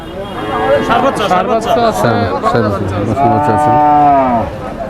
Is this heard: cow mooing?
yes